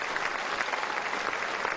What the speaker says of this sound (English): The crowd showing their appreciation.